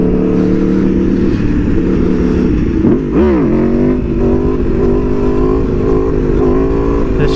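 An Aprilia Tuono V4R motorcycle engine drones loudly and steadily with a sharp rev swell around the midpoint, close and continuous with no talking, as the rider pulls wheelies.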